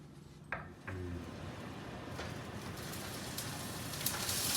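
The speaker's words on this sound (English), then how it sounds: "we're going to throw our veggies in here to saute" Vegetables hit a pan to saute before ground beef goes into a Mexican casserole, a clatter of pieces dropping in followed by a steady soft crackling sizzle that builds slightly, close by with no talk.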